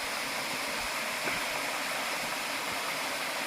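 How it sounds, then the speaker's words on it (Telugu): Small waterfall spilling into a rock pool at Penchalakona, a steady, unbroken rush of falling water that stays even throughout with no other sounds. "ఇక్కడ చూడండి ఒక వాటర్ కొలను ఉంది, లోపల వాటర్ పడుతుంది,"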